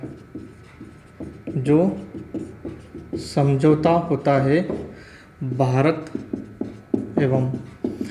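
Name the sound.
writing on a board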